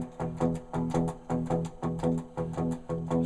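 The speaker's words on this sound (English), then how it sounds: "what I had showed in the first one was power chords." Electric guitar power chords chug in a steady shuffling blues rhythm in E, about a dozen short strummed hits at moderate volume with no voices.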